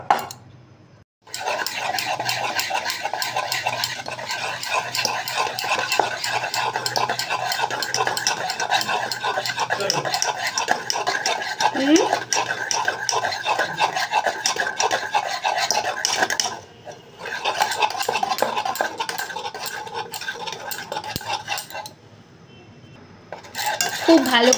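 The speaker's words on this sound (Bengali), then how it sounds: "খুব ভালো করে ফেটাতে হবে। আমি অনেকক্ষণ ধরে ফেটাচ্ছি" Batter for cauliflower manchurian is beaten by hand in a bowl, giving a long, continuous run of rapid scraping and clinking strokes, close and fairly loud, broken by two brief pauses.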